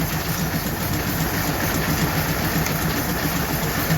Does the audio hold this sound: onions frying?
no